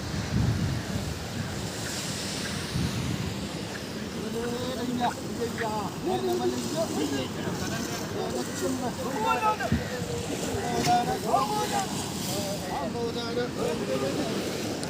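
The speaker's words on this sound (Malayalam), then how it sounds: "ഇതാണ് ഇവിടുത്തെ സ്പീഡ് ബോട്ട്" A tourist speed boat at Kovalam beach in Kerala, heard amid steady crashing surf and gusty wind noise. The boat's engine is buried in the constant wash of waves, with voices talking faintly in the background.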